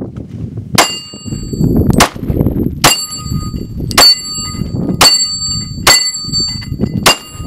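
A Glock 23 pistol fires hollow-point and full-metal-jacket rounds through a car windshield: seven sharp, loud cracks about a second apart, each with a bright metallic ring, over a low rumbling background.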